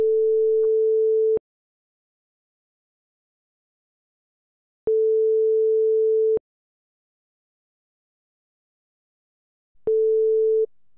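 Steady telephone ringback tone heard after a number is dialed, sounding as three long, loud, even beeps of about one and a half seconds each, separated by silent gaps, with no talk.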